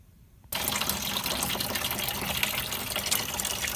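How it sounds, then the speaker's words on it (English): Coolant drains from the cooling system of a BMW X5 during a teardown, starting suddenly after a brief quiet moment into a steady, loud rushing gush of liquid pouring into a container. "Now I'm just draining all the coolant out."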